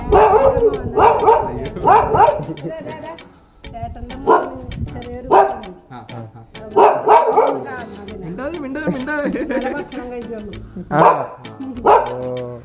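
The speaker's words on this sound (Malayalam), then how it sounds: "പട്ടി" A dog barks repeatedly in short bursts, mixed in with people talking nearby.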